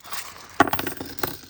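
A handful of 50p coins drop and clatter onto a surface in a quick cluster of metallic jingles, followed by a second short clink, close and fairly loud.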